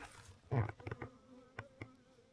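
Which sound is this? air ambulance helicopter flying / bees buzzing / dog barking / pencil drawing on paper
bees buzzing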